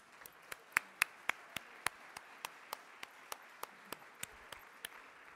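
Slow, sparse hand claps greet the organizing staff at the close of a school boards federation congress, a thin and fairly quiet run of single sharp claps spaced evenly, about three per second.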